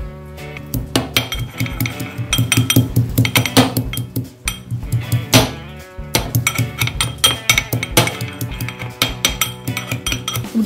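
A piece of ginger is pounded for jaggery ginger tea, giving a rapid run of sharp, close knocks in quick bursts with a brief pause midway, loud and without talk.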